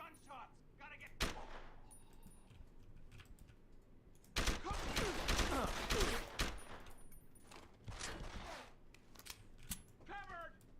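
Gunfire in the video game Deus Ex: Human Revolution, with scattered single shots followed by a dense loud burst of rapid fire and further shots, a voice briefly audible.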